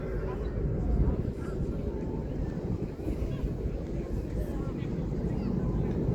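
Red Arrows aerobatic jets at an airshow make a broad, rumbling roar from some distance, steady and wind-buffeted, heard under a public-address commentator's voice.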